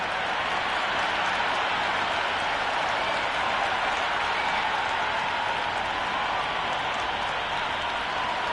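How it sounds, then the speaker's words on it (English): A stadium crowd in the Cricket 26 video game, during a T20 match between Australia and New Zealand on PS5, roars and applauds in a dense, steady wash of noise that fills the whole stretch without a break. "this crowd is already making it hard for me to be heard"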